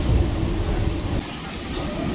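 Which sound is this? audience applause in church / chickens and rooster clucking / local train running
local train running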